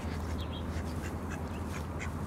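A flock of ducks on an island quacks continuously in a dense, busy chorus over a noisy outdoor background.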